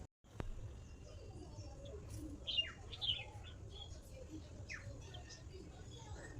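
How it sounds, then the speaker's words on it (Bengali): Small birds chirping outside a window, several short high tweets scattered across the moment, fairly faint over a steady low background hum. "এই পাখিগুলো কিন্তু দেখতে খুব সুন্দর।"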